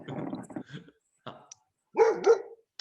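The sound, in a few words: dogs barking as they arrive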